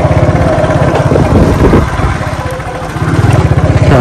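A motorcycle rides along a rough road on a sunny day, its engine loud and close with a steady, pulsing throb that dips briefly midway before rising again.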